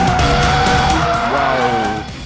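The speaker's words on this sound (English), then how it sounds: "Now let's try the car's attitude in the curves." Alfa Romeo 4C cornering hard, tires squealing in a sustained high whine over a loud engine drone, close and continuous before easing off at the end.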